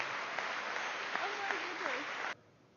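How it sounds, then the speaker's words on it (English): An audience at a mind-reader's motivational speaking show applauds in a dense, fairly faint clatter, with a voice briefly audible over it, before it cuts off abruptly. "Give her a big round of applause for her help."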